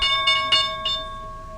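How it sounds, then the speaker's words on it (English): A trading-session opening bell for ES and NQ futures strikes a few times in quick succession, its bright ringing tones sustaining and slowly fading after the last strike, with no talk over it. "And there's the bell."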